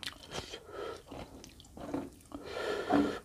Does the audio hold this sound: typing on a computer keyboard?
no